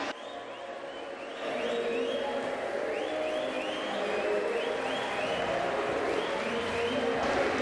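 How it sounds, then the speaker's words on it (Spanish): Applause from a basketball crowd after a close quarter-final game between Malvín and Urupan, sustained clapping and cheering throughout at moderate distance, with repeated whistle-like tones riding over it and no clear talk. "merecido aplauso para los de Urupán y merecido aplauso para los de Malvin"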